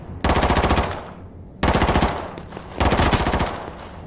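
Three long bursts of rapid automatic gunfire in H1Z1 on PS4, loud and close, each rattling for about a second with short pauses between.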